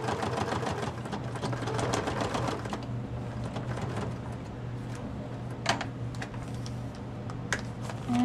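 Sewing machine running a straight stitch through a paper-bag mini journal, a rapid mechanical chatter of the needle, steady and close, with slight pauses and changes in pace, no voices.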